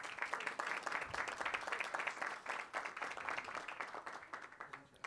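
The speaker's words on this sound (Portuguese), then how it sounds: "Isabela Cury Palheiros, que eu peço também uma salva de palmas." A crowd claps steadily in dense applause for about five seconds, fairly loud and continuous, tapering slightly near the end.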